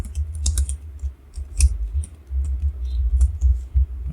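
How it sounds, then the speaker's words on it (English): Fingers type on a computer keyboard in bursts of quick, close clicks and taps over a low background hum, with short pauses between runs of keystrokes. "So I type my name. I type my email right here."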